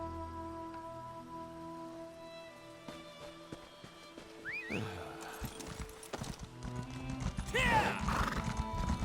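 Horse hooves clip-clop steadily and a horse neighs and whinnies loudly near the end, all from a mount in the fantasy game Elder Scrolls Online, set against ambient game music and a faint patter like rain.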